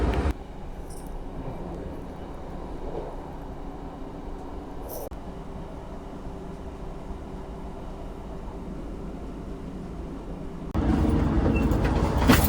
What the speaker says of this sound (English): I took one train somewhere, had an hour break, and now I'm taking it back